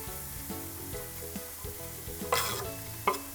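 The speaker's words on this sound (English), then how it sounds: "I'm going to add the onions now." Onions frying in a hot pan, a steady sizzle throughout with a few louder scraping stirs near the end.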